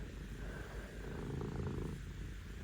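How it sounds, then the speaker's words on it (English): A domestic cat purrs softly and steadily nearby, a low continuous rumbling with gentle rhythmic pulses over quiet room noise. "she's purring away very happily"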